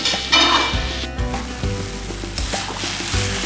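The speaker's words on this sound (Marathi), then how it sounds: "आता हे आपल्याला तुपावरती व्यवस्थित एक चार एक मिनिट आपण छान असं व्यवस्थित परतून घेऊयात आपली कैरी किसलेली" Grated raw mango sautéing in ghee in a pan, a bright continuous sizzle with repeated spatula scrapes and stirring knocks close by, no talk.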